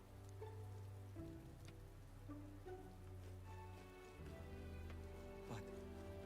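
Steady rain patters on surfaces in the fantasy role-playing game Metaphor: ReFantazio, a continuous soft hiss beneath low sustained ambient music tones.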